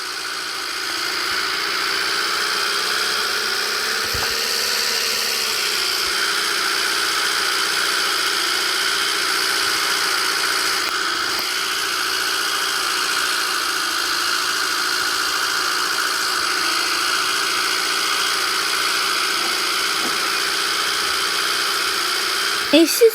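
A motor engine runs steadily at idle for the whole stretch, a constant droning hum with a slight shift in pitch partway through, while people talk over it.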